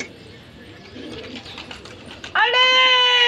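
Pigeons fluttering and cooing close by, with soft rustling and faint background sounds, followed by a loud, sustained tonal call toward the end.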